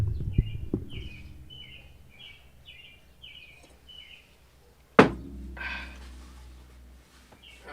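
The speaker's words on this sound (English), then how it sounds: "Yeah, you are hearing the birds." A bird outdoors repeats a short, bright chirping phrase several times in a steady series at moderate distance, followed by a sharp close thump and quieter rustling, with no talking.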